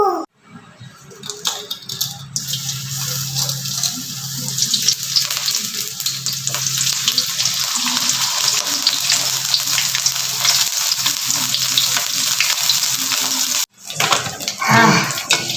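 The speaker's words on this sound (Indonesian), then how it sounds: "buat goreng asinnya." Salted fish fries in a pan with a loud, steady sizzle and crackle throughout. The sizzle cuts out briefly near the end, then picks up again.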